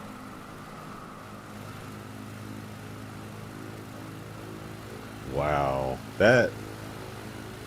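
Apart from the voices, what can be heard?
aircraft engine during takeoff in video game Microsoft Flight Simulator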